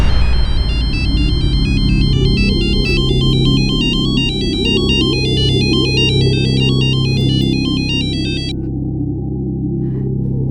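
An electronic telephone ringtone chirps in a steady repeating pattern for several seconds over a low background hum, then stops abruptly.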